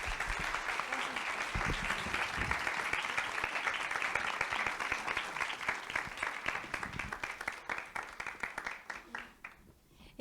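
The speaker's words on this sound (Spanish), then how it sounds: "Pido un aplauso para la psicóloga" Sustained audience applause at a women's forum event, dense and steady clapping that carries on for several seconds before thinning and fading toward the end.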